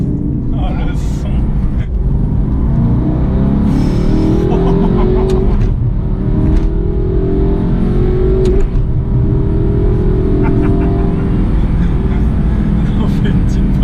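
Aston Martin V8 Vantage S engine revving and pulling hard on the road, a loud, deep steady drone rising in pitch, with people talking over it.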